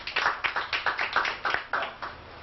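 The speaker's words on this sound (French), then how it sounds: "Applaudissez pour elle." A small group claps during a community outreach session in Cameroon, a short run of fairly even, moderately loud hand claps in a steady rhythm with no talk over it.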